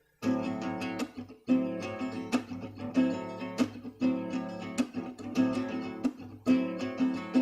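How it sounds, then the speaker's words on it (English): Rhythmic funk guitar strumming, tight repeated chord hits with crisp percussive scratches between them, played close and continuous. "So we're going to look at a funk rhythm now."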